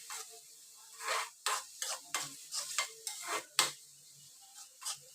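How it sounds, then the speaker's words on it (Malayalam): Thinly sliced onion sautéing in a pan for a cabbage stir-fry, stirred in repeated scraping strokes that sound close, over a soft steady sizzle with no talking. "സവാള കുറച്ച് വെന്ത് വന്നാൽ മതി."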